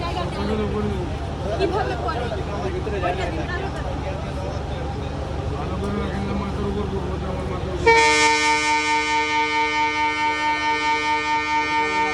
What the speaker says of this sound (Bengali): আমাদের ট্রেনটা ছেড়ে দেবে।